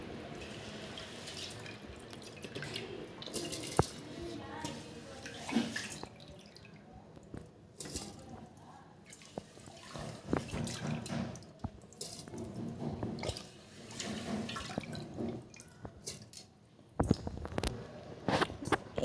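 Seeraga samba rice is tipped into a boiling pot of mutton biryani, with wet pouring, squishing and bubbling sounds and scattered sharp clinks, close and moderately loud with no talking.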